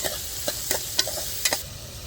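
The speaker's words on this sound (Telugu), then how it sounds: "ఉల్లిపాయలు, పచ్చిమిర్చి వేసుకున్న తర్వాత కలుపుకోవాలి." Onions and green chillies being stirred in hot oil for Andhra chicken fry, about five quick spoon scrapes over a soft background sizzle.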